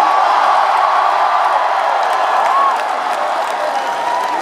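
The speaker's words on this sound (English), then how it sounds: "You're not going to cheer for this guy as he gets on stage?" A concert crowd at a show in Hershey, PA keeps up a loud, dense roar of cheers and whoops as a fan climbs on stage, steady throughout and easing slightly toward the end.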